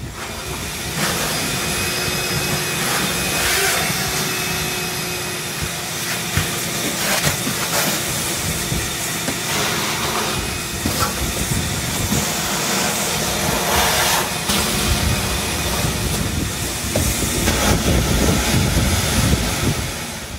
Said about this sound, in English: Okay, next is vacuuming, vacuum up everything.